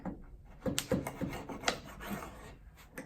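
A spline roller pressed along the frame channel, pushing spline into vinyl window screen on a porch window, making close, short rasping rub strokes that come in uneven bursts.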